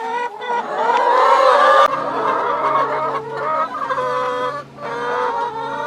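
Chickens cluck and squawk loudly inside a coop, a busy overlapping chorus of hens with a sustained steady call running beneath.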